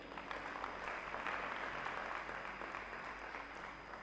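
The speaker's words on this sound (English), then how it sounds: "can we give Dr. Abel once again a round of applause?" An audience applauds Dr. Abel at a Tangibles event, a steady wash of many hands clapping at some distance, faint and even throughout with no voices over it.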